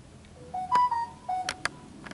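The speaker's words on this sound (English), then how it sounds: "And my phone rings." A mobile phone rings beside railroad tracks in El Paso, Texas, playing a short melodic electronic ringtone of rising and falling tones with a few clicky beeps, close and fairly clear.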